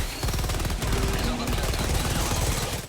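Sustained automatic gunfire in the video game Helldivers, a dense, loud, continuous stream of rapid shots with no pauses across the whole stretch.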